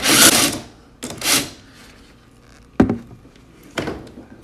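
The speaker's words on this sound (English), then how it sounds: "I'm going to do that with my impact gun because it's much faster." An impact gun loosening a nut on a garage door opener's chain fires two short, loud rattling bursts, followed by a couple of sharp metallic clunks.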